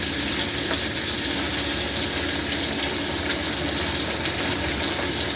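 Oil sizzles and spatters steadily in a pan of deep-frying grease, a dense continuous hiss at close range with no talk.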